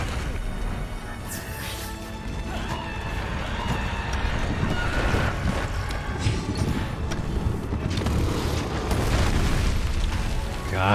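Explosions in the Monster Hunter World video game rumble loudly and continuously for the whole stretch, dense booming layered with game music and effects, with no break between blasts.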